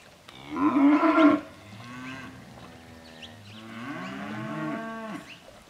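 Cattle moo loudly at a livestock sale in Wellington, NSW, one strong close call followed by longer, softer lowing from several animals, with no talk over it.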